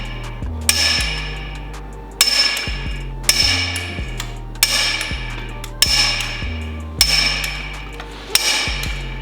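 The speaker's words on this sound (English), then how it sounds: "now we're going to go ahead and torque them to spec" Lug nuts on a 2022 Ford F-350 Platinum being torqued to spec with a wrench, six loud sharp metallic clicks at a steady rhythm about every one and a half seconds, close up with no talking.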